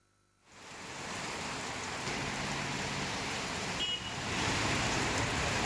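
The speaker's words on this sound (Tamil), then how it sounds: "பலத்த காற்றுடன் பெய்த கனமழையால் சாலைகளில் வெள்ளம் பெருக்கெடுத்து ஓடுகிறது" Heavy rain with strong wind pours down on flooded roads in the Kariyapatti area of Virudhunagar district, Tamil Nadu, a steady broadband hiss that swells slightly near the end, with no voices.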